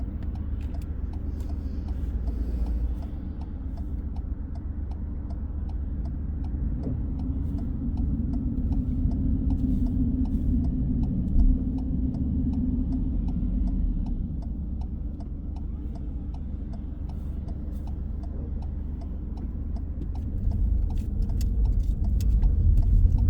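Steady road traffic outside the Mill Hill driving test centre, heard from inside a car as a continuous low engine and road rumble with faint ticking of an indicator, no speech.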